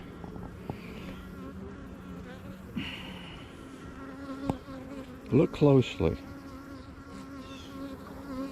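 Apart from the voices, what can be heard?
Caucasian and Italian honey bees buzzing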